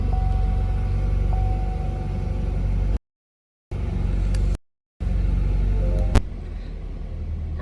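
A 2016-2020 Chevrolet Camaro turbo engine idling after a spark plug change, a steady low rumble close by, interrupted by two brief silent gaps and a sharp click near the end.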